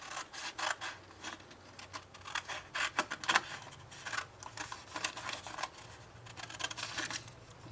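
Scissors cut steadily through paper for scrapbooking, giving a continuous series of close, crisp snips and rasping strokes with no talk.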